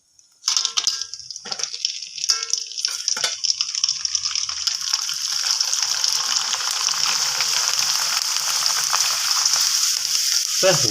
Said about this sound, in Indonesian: ini lur siap untuk digoreng. Mari ning wajan.